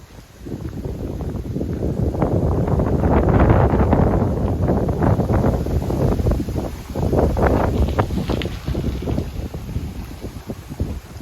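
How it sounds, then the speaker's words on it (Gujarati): Heavy wind in an open farm field buffeting the microphone in loud, low rumbling gusts that rise and fall throughout, with no voices. "આજે બહુ જ પવન છે"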